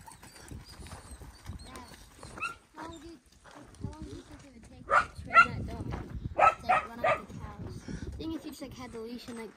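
Collies on a ranch bark in several sharp bursts, with people talking and some background movement around them.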